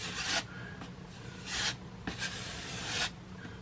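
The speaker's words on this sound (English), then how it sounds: "So I'm just going to get a little bit more of this putty. We're going to do this again. We're going to put a little bit more on here." Putty is spread with a scraping stroke over small holes in drywall. Four or five short, faint rasping swipes come close up, with quiet pauses between them.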